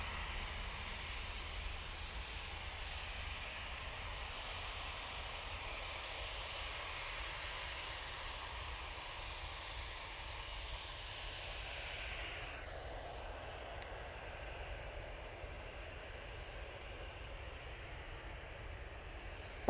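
Faint, steady distant drone of an Aer Lingus Regional ATR 72 turboprop arriving from Belfast, a smooth broadband engine hum holding level for the whole stretch with a slight pitch shift near the end, no talking.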